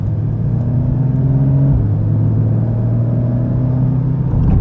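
A sports car engine idles with a deep, steady rumble, pitch dipping slightly partway through, continuous and close.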